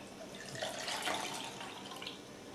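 Liquid poured from a measuring cup into a cup, a steady close trickle and splash lasting a couple of seconds with no talking.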